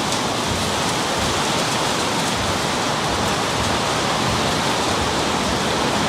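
Heavy rain falling steadily around an abandoned building, a dense continuous hiss that is loud and unbroken, with no voices.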